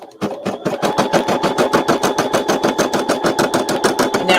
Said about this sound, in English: So put our foot down. And it's going to stitch the outline.